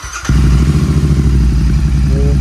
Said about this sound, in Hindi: भाई साहब एग्जॉस्ट सुनो यार